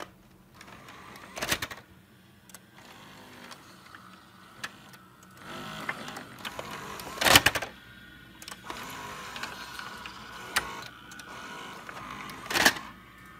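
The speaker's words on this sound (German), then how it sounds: "Das war jetzt eine VHS-Kassette." A VHS cassette goes into a video recorder, a series of separate mechanical clicks, clunks and whirs with sharp bursts of loading noise and the flap snapping shut, close and alone.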